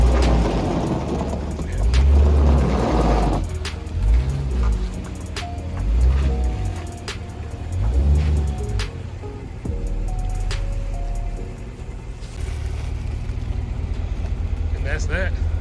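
A freshly washed white car, an abandoned project car that had sat unused, idles and pulls away nearby with a low, pulsing engine rumble, while someone talks over it throughout.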